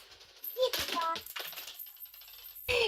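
Coins are thrown and drop with sharp metallic clinks and a brief rattle, the loudest clatter coming near the end, while soft voices murmur faintly in the background.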